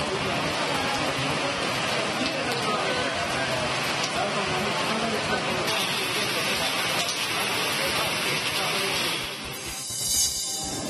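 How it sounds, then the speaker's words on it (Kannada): Heavy summer rain pours down over a Bengaluru street, a steady, loud hiss of falling water and drops on surfaces that lasts throughout and dips briefly near the end. "ಮಳೆ ಬಿದ್ದು ವಾತಾವರಣ ಕೂಡ ತಂಪಾಗಿದೆ."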